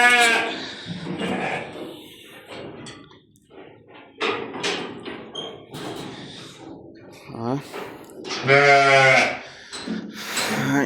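Pregnant goats bleat in wavering, harmonic calls among people talking, with one loud, sustained bleat near the end standing out close by.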